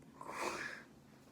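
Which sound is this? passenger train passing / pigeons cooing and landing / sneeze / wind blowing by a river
sneeze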